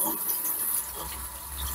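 Running tap water splashing over a brined whole chicken in a kitchen sink, a steady close gush of water that continues evenly and alone throughout.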